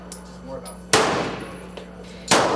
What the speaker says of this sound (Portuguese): Este som ouvido nos milhares de clubes de tiro espalhados pelos Estados Unidos é familiar para a maioria dos americanos